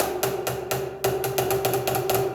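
Two identical plastic boomwhacker tubes are struck in turn, roughly ten hollow, bright taps with a steady pitched tone, close and fairly loud, with no speech.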